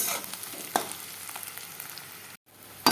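Mutton pieces frying in a pan, a soft steady sizzle with occasional sharp crackles and a brief stir, then a short gap before the sizzling resumes.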